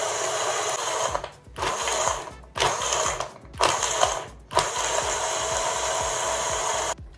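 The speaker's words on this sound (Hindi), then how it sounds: "अब इसको कर लेंगे ब्लेंड." An electric blender whirs loudly as it blends a milk smoothie. The motor runs in several steady bursts with short pauses between them, and the last burst runs longer.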